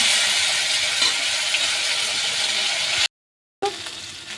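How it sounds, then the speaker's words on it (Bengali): Whole garam masala and bay leaves sizzle in hot oil: a continuous, fairly loud crackling hiss fills the clip, cutting to silence for about half a second near the end before resuming. "ফোড়নের জন্য দিয়ে দিচ্ছি গোটা গরম মশলা, তেজপাতা।"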